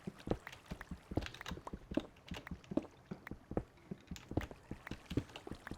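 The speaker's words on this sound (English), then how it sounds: "Hear all that splashing." Water splashes and drips in a Minecraft cave system: a steady run of quick, irregular splashy pops, faint and somewhat distant, with no talking.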